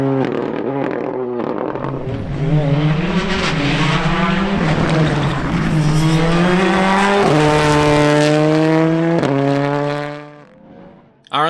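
A WRC rally car blasts along a Shackleton winter series stage, its loud close engine climbing through repeated rising gear pulls with sharp upshifts, then fading away at the end.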